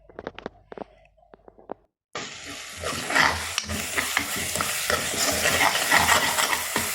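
Tomatoes frying with masala for a chicken, broad bean and potato curry start after a few quiet utensil taps, then a loud, steady sizzle with stirring scrapes fills the pan.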